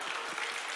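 Audience applause in a church hall during a testimony talk, a brief, steady burst of clapping filling the space without speech.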